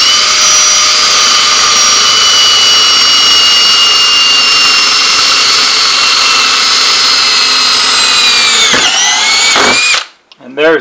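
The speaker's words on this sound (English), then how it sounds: "so when you put your regular drill bit there, it won't wander around and you can drill a more accurate hole that way." A power drill bores a hole in metal while building a replacement transformer, a loud, steady high whine that runs for about nine seconds, then dips in pitch and cuts out as the bit breaks through.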